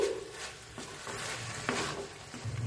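Amla with grated ginger and salt stirred in a pan: soft scrapes and light sizzling in a brief run of strokes, close and fairly quiet, with no talk.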